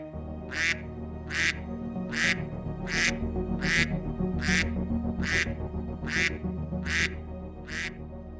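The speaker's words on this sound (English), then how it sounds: "And now, the sounds of ducks." Ducks quack in a regular series of eleven loud, evenly spaced calls over a low rumbling background, each quack short and nasal.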